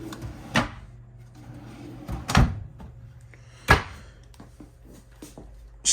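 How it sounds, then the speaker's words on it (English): Pull-out kitchen drawers in a 2022 Cottage 40CCK park model RV slide and shut, three distinct thumps with lighter rattles and clicks between them, close by in a quiet room. "One pull-out up top, and then a couple pull-out drawers here on the bottom."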